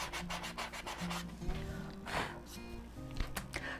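Sandpaper rubbing over a painted wooden holiday sign to soften its edges, a steady close scratchy back-and-forth rasp with repeated strokes at moderate level, no talking.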